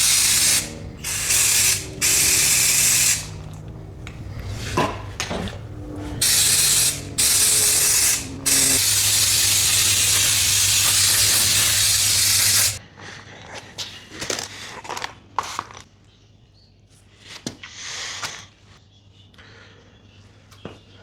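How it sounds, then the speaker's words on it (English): Brake cleaner sprays onto engine pistons from a Mini Cooper S R56 in loud, repeated hissing bursts of a second or more. Quieter metallic clicks and handling noises follow. "I gave them a good clean with brake cleaner"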